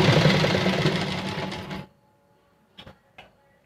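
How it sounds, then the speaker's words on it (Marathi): A sewing machine stitches fabric close beside a canvas interlining while sewing a top's neckline: a steady, fast mechanical whir for nearly two seconds, then it stops, followed by two faint clicks. "तर आता आपण शिवण्याची पद्धत बघूया।"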